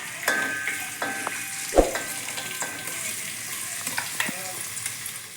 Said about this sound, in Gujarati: તો જો આપણે સરસ મજાનું તેલ મૂકી દીધું છે અને તેલ થઈ જાય પછી આ બધું નાખશું. તો આપણે જો નાખશું કાંદા,